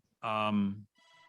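A mobile phone rings with a bright, steady electronic tone, one strong burst followed by a fainter repeat, heard close and alone.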